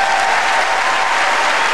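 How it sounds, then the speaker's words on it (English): Dense, loud applause from a television concert audience for the RTE Concert Orchestra, a thick, unbroken wash of many hands clapping close by. "Applause for the orchestra."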